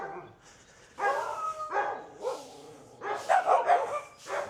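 Several dogs give short, excited barks and yips nearby, scattered bursts over a few seconds that stand out clearly against a quiet indoor background.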